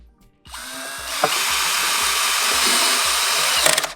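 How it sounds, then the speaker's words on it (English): A screw gun with a number 2 tip drives a screw into an aluminum patio cover, a close, steady high whine lasting about three seconds with a light rhythmic ratcheting underneath. "You'll need a screw gun with the typical number 2 tip"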